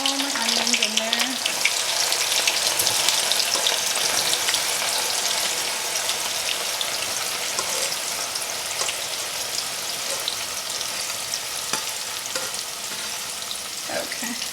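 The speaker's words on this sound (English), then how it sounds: "we're gonna start frying the onions" Onions crackle and sizzle loudly in very hot oil in a pot for Indian mutton korma, a dense, continuous frying hiss lasting throughout, with a brief voice at the start.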